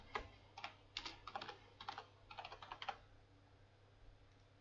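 Quiet typing on a computer keyboard, a steady run of soft, close key clicks in uneven bursts over a low background hum, with no voices.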